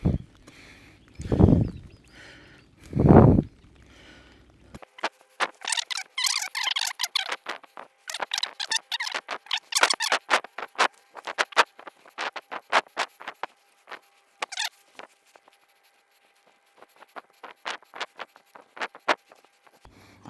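Rain begins falling outdoors in a red-fleshed guava garden, with a couple of dull thumps followed by scattered, irregular drops pattering and ticking close by on leaves and surfaces.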